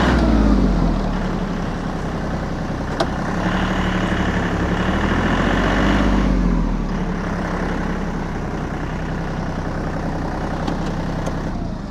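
An ISEKI TA235 compact tractor with a rotary tiller attached pulls away in fourth gear, its diesel engine giving a steady, close, loud drone that swells as the throttle opens, with no talking.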